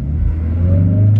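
A car engine hums low and rises slightly in pitch as a learner driver gently pulls away, close and loud, with a brief faint higher noise near the end and no talking.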